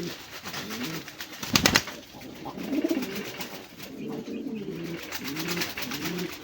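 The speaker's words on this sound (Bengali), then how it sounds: "আমাকে একজোড়া কবুতর দিচ্ছেন, খুবই ডাকের কবুতর" Pigeons in a cage at a bird seller's gallery cooing in repeated low, rolling phrases throughout, close and clear, with a brief sharp clatter near the start.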